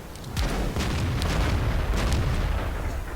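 A T57 tank gun fires in a tank video game, a heavy booming shot followed by a rumbling, crackling tail and engine drone that lingers for several seconds.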